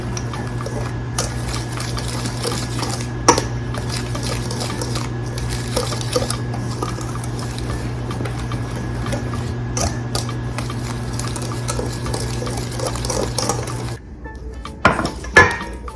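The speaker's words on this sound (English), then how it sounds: "So while that's melting, let's go ahead and mix this." Cornbread batter is mixed in a bowl, giving a steady whirring, rattling drone with light clinks, close and constant until it stops near the end, followed by a few knocks; no one speaks.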